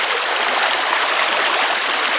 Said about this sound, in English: You see how the river is moving?